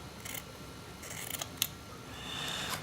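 Scissors snip through cotton wicking for a vape coil on a Tobeco Stillare clone rebuildable atomizer, giving a few short, close, crisp cuts with quiet pauses between them and no talking.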